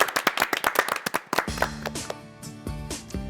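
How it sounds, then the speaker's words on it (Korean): A small group in a clinic setting claps in a quick run of distinct, close hand claps that thins into a few separate claps while a musical jingle starts underneath. "박수 한번 주세요"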